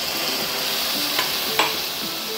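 Onion-masala paste frying in oil for a shrimp (karandi) curry sizzles loudly and steadily as a little water is added and stirred, with a couple of soft clicks of the spoon.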